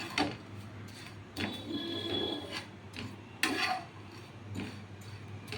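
Flattened rice (chira) being stirred as it dry-roasts in a pan, giving a dry scraping rasp in repeated strokes with short pauses, close and moderately loud over a steady low hum.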